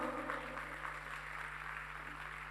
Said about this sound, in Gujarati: એકવાર અંકુરભાઈની માટે તાળીઓથી વધાવી દેજો.